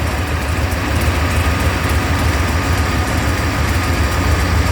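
A 1976 HP 440 engine on W30 oil idles steadily and loudly, a continuous low rumble with no pauses and no one talking.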